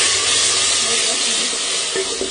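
Tomatoes and green chilies sizzling in hot oil in a cooking pot while chickpeas are being prepared, a steady dense hiss with a couple of soft pops near the end.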